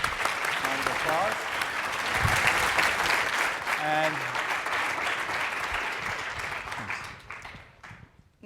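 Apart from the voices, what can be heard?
audience round of applause at forum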